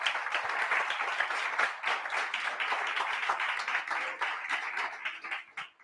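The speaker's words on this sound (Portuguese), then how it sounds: "Pode dar um aplauso a Jesus por isso" Church congregation claps during a sermon, a close, lively burst of hand claps with distinct individual slaps, holding steady before tapering off near the end.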